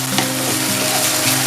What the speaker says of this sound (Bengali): গ্যাসের আঁচটা বাড়িয়ে দিয়ে এটাকে ভালো করে ফ্রাই করে নিতে হবে, যাতে আদার কাঁচা গন্ধটা না থাকে।